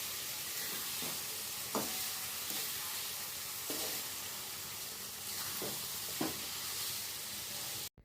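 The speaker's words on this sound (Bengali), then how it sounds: "এবার ভালোভাবে নাড়িয়ে চিকেনের সাথে মশলাটাকে ভালো মতো মাখিয়ে নেব।" Chicken with spices sizzling in a pan for Dhaba-style chicken, a continuous bright hiss broken by several distinct scraping stir strokes at irregular intervals, close and alone until an abrupt cutoff at the end.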